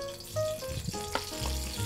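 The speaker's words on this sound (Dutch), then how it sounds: "ik ga de kip bakken." Chicken pieces hit hot oil in a home cooking show, giving a brief crackling sizzle that swells quickly, with faint tonal background sound underneath.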